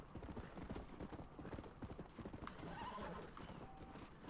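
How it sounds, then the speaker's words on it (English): Horse hooves clip-clop in a steady, rapid rhythm as a rider travels a road in the western game Red Dead Redemption, with an occasional whinny and quiet game ambience. "I don't mind riding my horse back to civilization"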